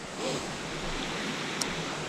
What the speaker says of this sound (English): So yeah, this is where the waterfall is